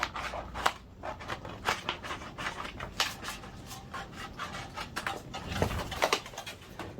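Scissors or a blade slicing straight across a vinyl sheet on its backing, giving a quiet run of close, crisp scraping snips and rustles with no talk.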